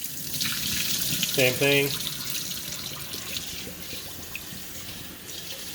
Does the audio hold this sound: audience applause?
no